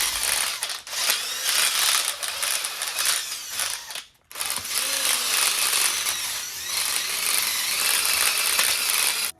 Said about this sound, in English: I'm using an impact drill for doing this